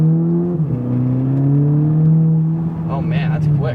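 A modified 2014 Volkswagen GTI with a DSG gearbox accelerating, its engine note climbing steadily and shifting once early, heard from inside the cabin as voices talk over it.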